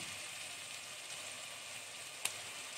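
Onions frying in a pan with a little sugar, sizzling steadily and evenly close up, with a brief clink of stirring near the end.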